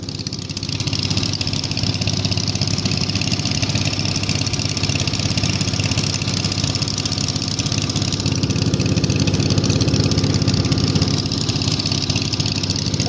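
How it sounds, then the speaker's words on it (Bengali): Engine of a sand-dredging boat working at a sunken bulkhead ship, a steady droning idle with rapid low knocking pulses, close and continuous without talk. "ইঞ্জিন বন্ধ কর।"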